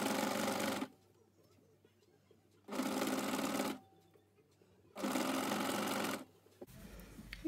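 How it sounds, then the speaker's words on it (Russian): A sewing machine stitches binding onto a garment neckline in three short bursts of rapid, close, steady whirring, separated by quiet pauses while the fabric is handled. "Ничего не отрезаем, продолжаем шить."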